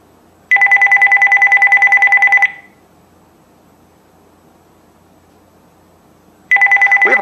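A telephone rings for an incoming call on a talk show, a loud trilling electronic ring lasting about two seconds, then silence, then the ring starting again.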